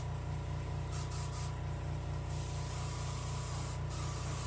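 Gloss top coat hisses continuously from a spray gun onto a painted white crappie taxidermy fish, a close, steady spray over a low constant hum.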